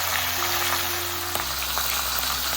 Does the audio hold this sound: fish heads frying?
yes